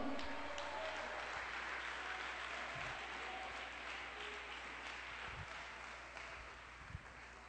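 Congregation applauding the Lord during an evangelical church service with a visiting evangelist, a steady sustained wash of many hands clapping that slowly fades over several seconds, with a few low thumps.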